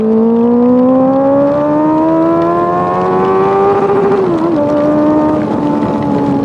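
Honda CB 650F motorcycle with an aftermarket exhaust revving in a long, loud, steady drone whose pitch climbs slowly, then dips and settles near the end; no talking.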